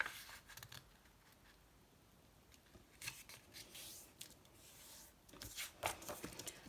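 Book pages being folded in half for paper ephemera, heard as faint, close papery creases and rustles coming in scattered short bursts against a quiet background, with no talking.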